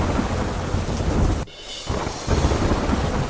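Heavy rain pours down in Veraval, Gir Somnath, a loud, dense wash of drumming water with a brief dip before the downpour surges back even stronger.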